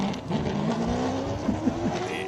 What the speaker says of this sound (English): Jimmy Giannaccaro in with a Hendrix NASCAR engine.